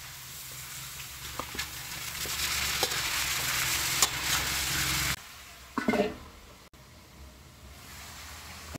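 Pork spareribs for adobo sizzle and fry in a pan, a dense close hiss with a few scraping stirs, easing off after a short break in the cooking sound.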